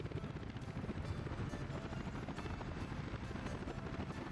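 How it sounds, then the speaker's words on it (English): Helicopter arriving in the city-builder game Workers & Resources: Soviet Republic, a dense, continuous rotor thump and engine roar holding steady and fairly loud throughout, with no talk over it. "You can hear the chopper coming in."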